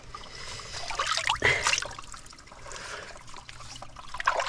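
Spring water trickles by the sea at a coastal campsite, a steady bright splashing and gurgling with a broad rushing wash beneath, close and continuous.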